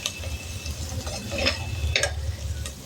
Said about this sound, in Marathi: ती चांगली तेलावर परतून घ्यायची.